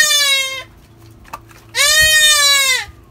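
Goats on a goat farm bleat loudly and close by, two long wavering calls separated by a short pause filled with faint background rustle.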